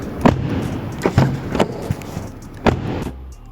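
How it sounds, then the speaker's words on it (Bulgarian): Several sharp, solid thumps close by as the doors of a Mercedes-AMG E53 are shut one after another, with a quiet pause at the end. "Любимо мое нещо в Mercedes е начинът, по който се чуват вратите им"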